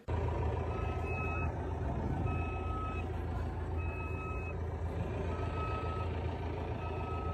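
A truck's reversing alarm beeps in a steady, evenly spaced series over a constant low engine drone, heard up close with no voices.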